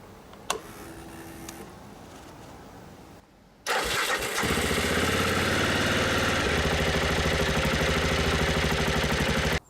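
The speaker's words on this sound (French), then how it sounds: "Maintenant il ne reste plus qu'à démarrer réellement." Aprilia motorcycle engine cranked on a homemade LiFePO4 battery: a click and brief starter whir, a pause, then the engine catches and settles into a loud, steady, close idle.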